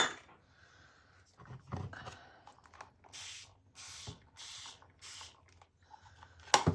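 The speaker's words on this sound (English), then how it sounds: "I'm gonna spray some on this one before I put the green down" A spray bottle spritzes water onto paper in a run of four or five short, hissing pumps, close by, preceded by some handling clicks and a clatter.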